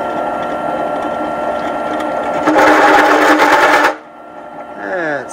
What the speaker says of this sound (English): we're gonna chamfer it with a 3/4 this time